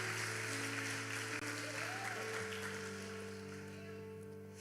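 Congregation applauding during a church service in Rio de Janeiro, a steady wash of clapping held at even strength for several seconds, with sustained organ or keyboard tones underneath.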